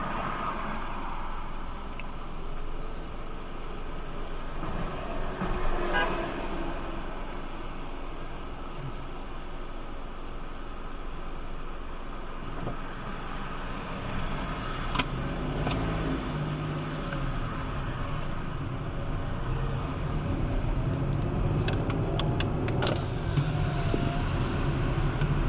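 Steady broadband rumble of London road traffic at night, cars and heavier vehicles blending into a continuous distant wash with a few brief passing swells and clicks, no talking.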